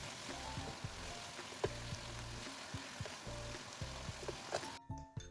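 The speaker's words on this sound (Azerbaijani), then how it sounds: "Qarışdırandan sonra tavanın qapağını qoyuram ki, qovrulsun." Chopped onions and green beans fry in a covered pan with salt, giving a steady, faint sizzle with small pops and clicks throughout and no talking.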